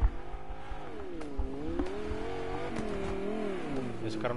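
Engine revving of a car in the video game Fortnite, a steady harmonic drone that rises and falls in pitch as the throttle changes, loud and continuous with faint clicks, with voices talking over it.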